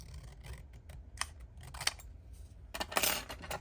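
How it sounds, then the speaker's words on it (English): Several crisp metallic snips from scissors cutting, irregular and close, with quiet pauses between them. "I'm just going to use my scissors."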